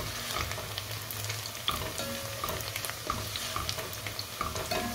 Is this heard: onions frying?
yes